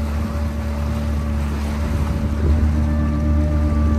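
A 2022 Kawasaki Ultra 310 LX jet ski pulls away slowly through water, a steady engine drone with sloshing and splashing at the nose, rising slightly as it moves off.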